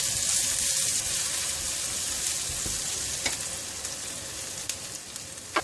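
Chopped garlic and onion sizzle in hot oil in a wok for Chinese prawn fried rice, a steady loud hiss with occasional scraping stir clicks and no talk.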